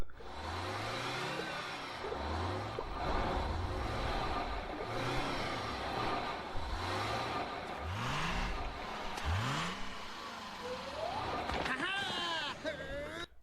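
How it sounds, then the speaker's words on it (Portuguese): Cartoon bus from SpongeBob SquarePants arriving and pulling away, with repeated rising engine revs like gear shifts, then a whining departure, all beneath a voice talking over the scene. "assim que coloca a mão na máquina pra pegar, outro ônibus chega e sai"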